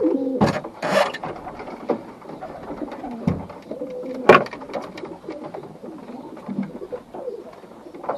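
Baby pigeons and adults in a loft give soft coos and murmurs with scattered sharp clicks, rattles and handling knocks close by, irregular and fairly loud in short bursts.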